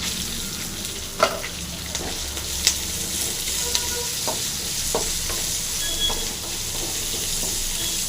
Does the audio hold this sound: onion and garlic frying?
yes